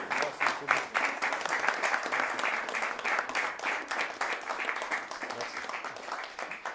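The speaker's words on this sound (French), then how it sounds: "c'est moi qui vous applaudis" Applause at a town hall ceremony: a sustained, fairly even clapping from a gathered group, moderately loud and steady from start to finish with no voices standing out.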